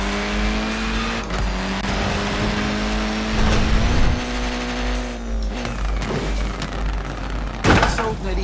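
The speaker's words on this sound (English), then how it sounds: "Look at that, laying down some rubber there." Tyres screech as a Mini lays down rubber in the racing game Forza Horizon 4, with a steady engine drone underneath and short squealing bursts over eight seconds, loud and close.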